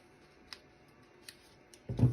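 Scissors snip through dress fabric in two or three sharp, isolated cuts spaced apart, closely heard in a quiet room, ending with a louder thump of handling.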